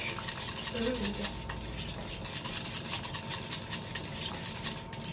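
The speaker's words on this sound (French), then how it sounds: "C'est une sauce mornay, c'est un peu comme une béchamel, mais pas tout à fait encore pareil. Et on remue." Soft stirring of a mornay sauce, a cheese-enriched béchamel, in a pan: faint continuous scraping under steady kitchen background noise, fairly quiet and close.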